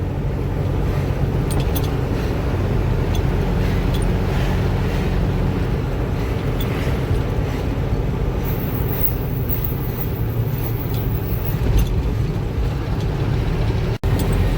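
Steady, loud road traffic rumble from bikes and vehicles on a city road near Mangalore, heavy with wind buffeting throughout and no voices, with a brief sharp click near the end.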